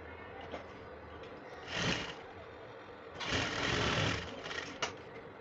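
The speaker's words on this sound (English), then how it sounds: "Now you're going to sew both the pocket and the trouser together." Up close, a sewing machine stitches a trouser pocket to the trouser body with a steady mechanical hum. Two louder bursts of fast stitching stand out, the second longer.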